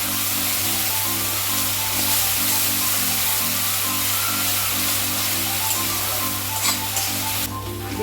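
Veg Manchurian frying in a pan with soy sauce, a steady broadband sizzle with a regular pulsing hum underneath, loud and continuous throughout with no talking.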